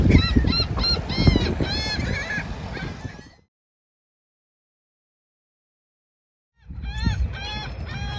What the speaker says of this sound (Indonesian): burung bangau atau pelikan di antara burung-burung yang lain di pinggir Sungai Mississippi yang berhadapan dengan Gulf of Mexico